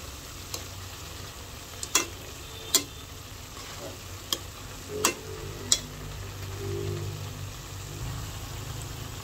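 Tofu frying in a pan while a utensil stirs it, a steady soft sizzle under a scatter of sharp scraping clicks and taps on the pan, no talking.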